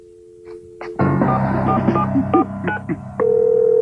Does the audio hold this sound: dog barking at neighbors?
no